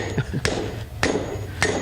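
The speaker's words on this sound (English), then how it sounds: "It's called a rounding hammer, just for the very reason we do rounding." A blacksmith's rounding hammer strikes metal at a logging-days forge demonstration: three sharp, ringing blows spaced about half a second apart, close and clear.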